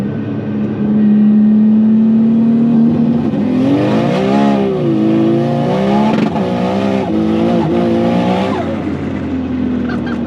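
A 900 hp Nissan Skyline accelerates hard in third gear, its loud engine climbing in pitch through a long sustained pull with rising and falling harmonics, close and dominant throughout.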